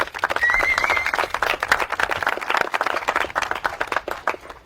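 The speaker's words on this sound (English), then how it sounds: "Let's give them a round of applause." Audience applause at an outdoor housing project blessing on Maui, uneven clapping of a small crowd with a whistle near the start, rising and falling in loudness.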